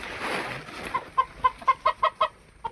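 A chicken clucks in a quick series of about eight short, clear notes, fairly close, following a brief stretch of noisy rustling.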